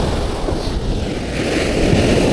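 Sea surf rolling onto a beach at a surfcasting spot, a steady broad wash of waves with wind buffeting the microphone, swelling slightly louder toward the end, with no voices.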